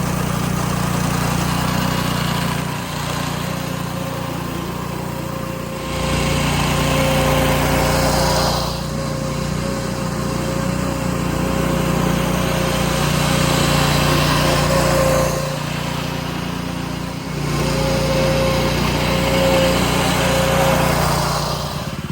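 A Trucut reel mower engine runs steadily and loudly while scalping Bermuda grass, a constant close drone with a few brief dips in level as the load shifts.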